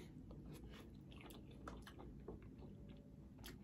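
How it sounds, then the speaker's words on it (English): Close, quiet bites and wet chewing on a Disney turkey leg, with small squishy, moist mouth sounds in a soft, irregular rhythm. "Let me get this bite."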